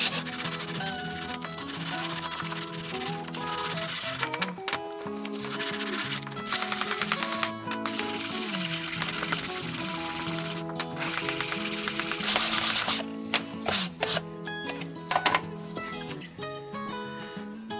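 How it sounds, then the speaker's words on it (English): Hand sanding a piece of wood with 220 grit sandpaper wrapped around a wooden block, a steady close scratchy rubbing that continues in repeated strokes with brief pauses, no talking. "wrap a piece of 220 grit sandpaper around this piece of wood and do a little sanding by hand."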